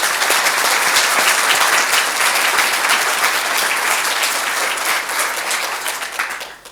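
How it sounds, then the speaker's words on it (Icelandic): Loud, sustained applause from a large audience at a university graduation ceremony in Iceland, dense clapping that holds steady and then fades out at the end. "við skulum gefa henni mjög gott klapp"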